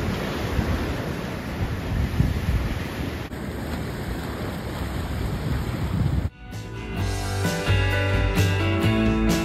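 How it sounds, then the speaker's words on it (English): Ocean surf pounding along a long coastal walkway near Impact, Texas, with waves breaking on both sides; steady loud wash with wind noise, then a sudden cut to a different, busier sound near the end. "it's a good mile with waves crashing on both sides of you"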